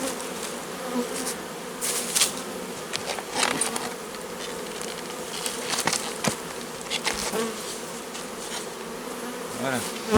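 Honeybees buzz around a Dadant hive during a transfer from a Miniplus division, a dense close drone with individual bees zipping past the microphone and occasional knocks of hive parts, no talking.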